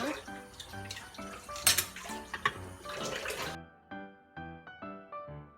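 Cold water pours into a pot of boiling noodles for a simple banquet noodle soup, a splashy rush lasting a few seconds before fading to quieter ringing taps and clinks of cookware.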